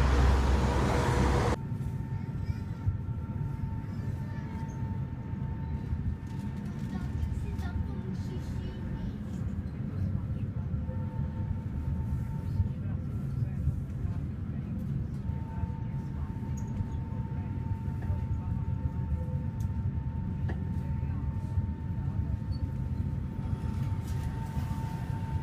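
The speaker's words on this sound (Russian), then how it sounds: "Все, едет мой трамвай." Tram in Prague pulling in and then riding, a low steady rumble and rolling hum that stays even and fairly quiet throughout, with no one talking.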